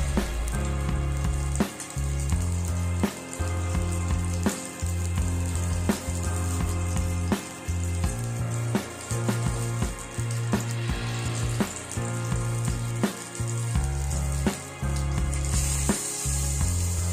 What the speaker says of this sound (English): Once the fish is well fried, I'll take it out of the oil and set it aside.